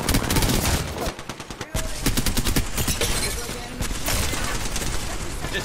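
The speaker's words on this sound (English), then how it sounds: "Firing. Reloading." Rapid, loud automatic gunfire in an Apex Legends match, with sustained bursts broken by brief pauses for reloading, while players talk over the shooting.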